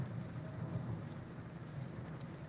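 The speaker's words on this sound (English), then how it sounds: "it is raining, so it's kind of nasty out here" Rain falls outdoors in a steady, soft, continuous hiss with a low background rumble and no clear individual drops.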